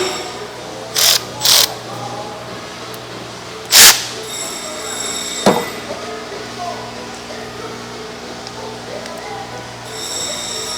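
Electric ratchet working on a 2018 Ford Fiesta spark plug, heard as a few short, loud mechanical bursts of whirring and clicking spaced over several seconds, with quieter clinks and workshop background between them.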